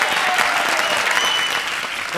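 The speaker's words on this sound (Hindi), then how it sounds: "तालियां दोस्तों।" Studio audience applause on a comedy show stage, a dense, even burst of clapping from a large crowd that holds steady and fades slightly at the end.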